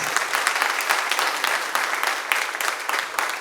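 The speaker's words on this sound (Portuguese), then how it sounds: "Vamos aplaudir Jesus novamente, que ele merece." Church congregation at a Portuguese-language service applauding together, a steady dense patter of many hands clapping at moderate loudness, heard alone without talk.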